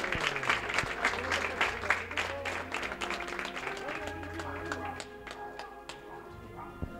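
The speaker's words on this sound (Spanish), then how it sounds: "Escuchamos los aplausos del público y de los hermanos." Spectators and brotherhood members applaud a Good Friday procession float in the crowded streets of Aroche, a rippling patter of clapping with voices and a low drone mixed in, moderately distant.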